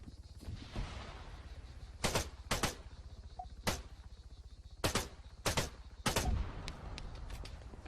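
Rifle shots from the MX 6.5mm rifle in Arma 3 ring out in about seven sharp, loud reports, some in quick pairs and bursts, over steady low background rumble.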